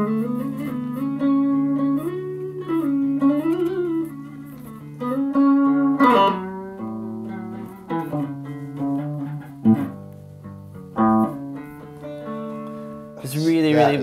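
Electric guitar played with a slide, notes gliding smoothly between pitches with sustained, wavering tones, close and fairly loud, phrases separated by short pauses.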